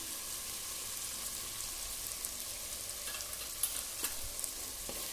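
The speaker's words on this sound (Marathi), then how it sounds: "खाली लागून नाही द्यायचा, परतत राहायचा" Homemade onion-garlic masala is stirred in a frying pan for egg curry, giving a quiet steady sizzle with faint scraping and a few soft utensil clicks, close but low in level, no speech.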